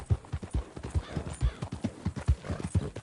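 A horse trots in the Red Dead Redemption 2 video game, with steady, close and clear clip-clopping hooves in a quick, even rhythm.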